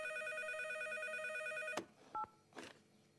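A cartoon telephone rings with a steady electronic trill that cuts off abruptly midway, followed by a couple of short tonal clicks and faint shuffling noises.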